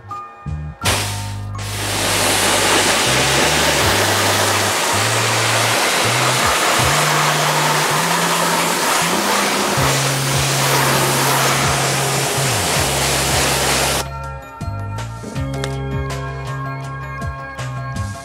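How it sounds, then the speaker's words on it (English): Pressure washer spraying water onto car wheels to rinse off a colour-changing wheel cleaner, a loud continuous hissing blast over a rhythmic motor drone that holds for about thirteen seconds, then cuts out leaving the pump running. "we should just be able to pressure wash it off"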